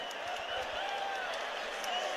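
Penn State fans roar and cheer in a packed arena at the NCAA wrestling championship, a dense, steady wall of crowd noise with scattered voices and some clapping, sustained and loud throughout.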